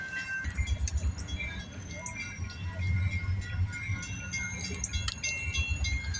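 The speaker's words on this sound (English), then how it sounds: "CSX crossing Gettysburg Avenue headed eastbound back to the Needmore Yard, 6358 with the long hood nose" CSX freight locomotive 6358, running long hood forward, heads eastbound across the Gettysburg Avenue crossing in Trotwood, Ohio: a steady low rumble with rhythmic clanking and ringing metallic tones, fairly close.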